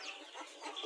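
Rhode Island Red free-range chicks or hens giving faint, brief clucking and peeping, low and somewhat distant with no voices.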